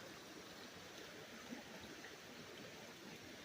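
Floodwater in western Kentucky flowing steadily, a constant broad rushing wash that stays even and moderately distant throughout.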